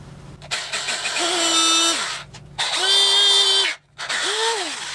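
A power drill bores a hole for a pulley setup in three bursts, its motor whining up in pitch and then holding steady, with short pauses between runs, loud and close.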